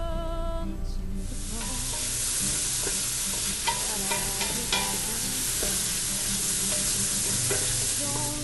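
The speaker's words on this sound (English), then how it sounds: "slice our bulbs nice and fine and get them sauteing in the butter in the big pot" Finely sliced wild leek bulbs sauté in butter in a big pot, giving a steady close sizzle throughout with occasional utensil scrapes and taps.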